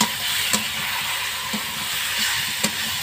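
Poultry chicken pieces stirred in a wok (kadai) for a potato chicken curry give a steady close sizzle of frying, broken by about three sharp scraping knocks of the spoon, with no voices.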